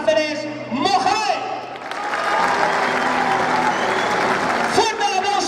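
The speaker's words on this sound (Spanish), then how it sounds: "¡Fuerte el aplauso!" Crowd applause at a youth bullfighting exhibition in Cáceres, a sustained burst of clapping swelling after an announcer's voice, with the announcer speaking again at the start and end.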